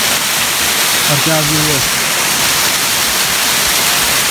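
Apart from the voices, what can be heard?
waterfall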